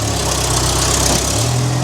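A 4430 tractor idles close by in a narrow barn alley while hauling manure, its engine a loud, steady low rumble throughout with no voices.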